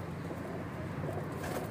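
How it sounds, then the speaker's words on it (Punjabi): Pigeons coo in low, soft calls, faint and close, against a quiet background with no voices. "ਕਬੂਤਰ ਵੇਖੋ"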